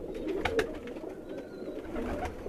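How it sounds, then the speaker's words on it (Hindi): A Ferozpuri pigeon paired with a female gives soft, low coos at close range over a quiet background, with a couple of brief sharper sounds early on. "ये जी 34 नंबर जोड़ा मेरा टैडी मादा है, इसके साथ फिरोजपुरी कबूतर है।"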